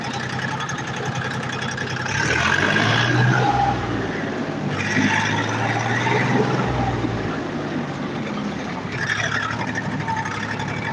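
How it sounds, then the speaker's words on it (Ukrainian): A heavy tractor engine drones and revs in waves, rising and falling as it digs earth nearby, loud and continuous. "Трактор."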